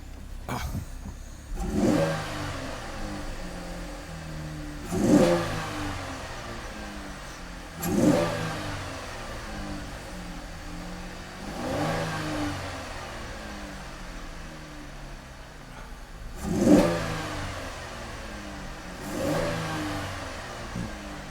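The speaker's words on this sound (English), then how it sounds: "I'll rev it up, see what it's gonna do." A car engine fitted with a Jacfab ported intake manifold, 80mm throttle body and nitrous plate is revved hard about six times at a steady rhythm, each sharp climb falling back to a rumbling idle, close and loud with no talk.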